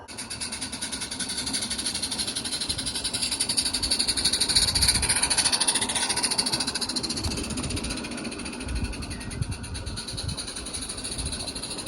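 A garden railway model steam engine runs on an outdoor track, giving a steady mechanical chuffing and rattling hum that stays fairly loud and close throughout, with a faint high whine above it and no talk.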